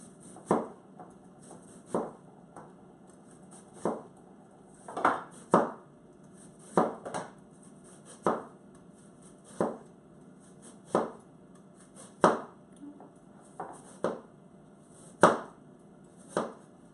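A knife cuts down through an onion on a cutting board in a steady rhythm, about twenty crisp chops at roughly one-second intervals, close and clear, with no talking.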